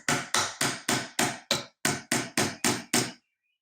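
A hammer taps eleven times in a steady, even rhythm, each strike sharp and close, followed by silence.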